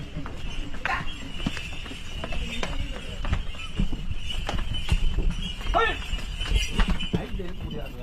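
Bulls carrying holy water for a temple anointing climb the stone steps at Chennimalai, their hooves striking in an irregular clatter of sharp knocks, close by, amid background chatter and ambient noise.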